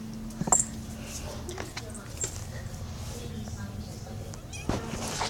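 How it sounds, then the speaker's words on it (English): A cat meows briefly near the start and again faintly toward the end, both times close by, with people talking casually over a low background hum. "Look at the cat."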